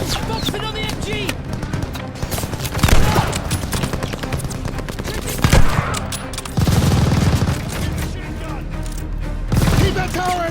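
Sustained machine gun fire from a tower position in Call of Duty, a dense continuous rattle of rapid shots with louder bursts, mixed with other battlefield gunfire and shouting voices.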